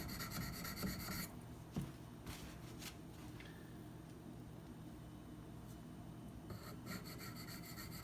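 A Cold Steel Demko AD-15 knife bevel is worked against a sharpening stone with steady, close rasping strokes. They are quicker and denser at the start and end, with quieter, even scraping in between, and no one speaks.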